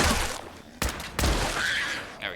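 Gunfire in the video game Fallout 4: two or three sharp, loud shots, separated by short gaps, with echoing tails and game sounds between them.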